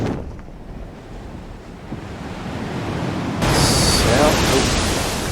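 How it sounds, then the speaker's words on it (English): A waterfall rushes in Elden Ring as a steady, loud roar of broadband noise, swelling stronger partway through, with no talk over it. "Sounds like we're getting chucked down a waterfall."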